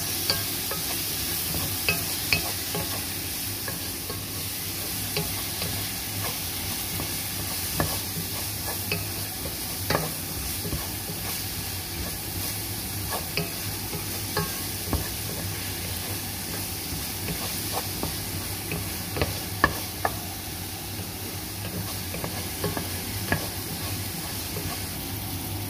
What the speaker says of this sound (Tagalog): Mekos lang hanggang maluto yung kamatis.